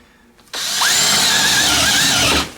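A Teccpo 12-inch cordless drill with a four-pole brushed motor bores through a knot in wood, a loud, steady whine starting abruptly and running about two seconds before cutting off.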